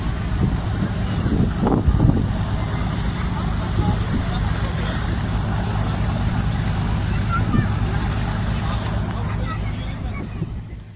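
A tour boat motor drones steadily beneath a busy background of chatter and crowd noise, continuous and fairly close, on a boat tour around Ayvalık, Turkey.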